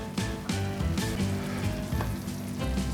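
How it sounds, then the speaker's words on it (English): Cream poured into a sauce sizzling in a wok for chicken tikka masala, a loud, dense crackling sizzle with a few sharper bursts, no voices. "I'm now going to add in my cream"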